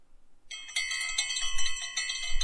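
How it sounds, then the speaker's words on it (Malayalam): Bell sound effect added in the InShot mobile video editor, a bright ringing bell that starts after a short silence and rings repeatedly in quick metallic pulses, clear and alone. "ഇപ്പോൾ ഒരു ബെൽ എഫക്റ്റ് ആഡ് ചെയ്യണമെങ്കിൽ,"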